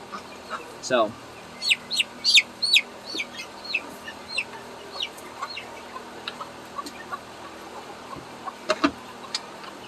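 Small-scale backyard chickens cluck and chirp in a run of short, close calls, several overlapping bursts spread across the stretch with a fainter voice talking underneath.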